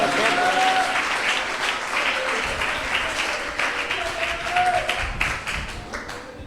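A church congregation applauds in praise, a dense sustained round of clapping from many hands filling the room, loud and continuous, with some voices mixed in.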